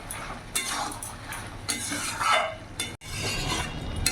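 Mixed vegetables are pressed and stirred in a cooking pan with a spoon, making repeated scraping and clinking strokes over a soft sizzle. The sound is close and rhythmic, with a brief silence near the end.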